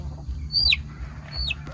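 A small chicken kept in a coop gives two short, high clucking calls about a second apart, fairly close, over a low background hum.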